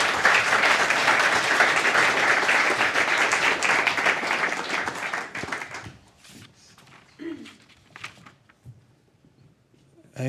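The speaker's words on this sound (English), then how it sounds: "So can we have another round of applause for Nicola, please?" Audience at a data visualization talk claps loudly and steadily for about six seconds before the applause thins and dies away, leaving scattered faint taps and rustles.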